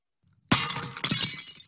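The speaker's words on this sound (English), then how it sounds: "has that massive sudden bang at the start, and then you can see little horizontal lines, which are the tingles of the, we call them tingles of the glass shards falling on the floor" A pane of glass smashes with one sudden loud crash, followed by a bright, ringing tinkle of shards scattering and settling on a hard floor, heard alone and close.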